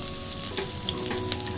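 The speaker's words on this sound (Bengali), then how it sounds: "আর একটু পেঁয়াজ রসুন দিয়ে দিব।" Onion and garlic fry in hot oil, giving a close, continuous sizzle with bursts of crackling and a few stirring scrapes, and no voices.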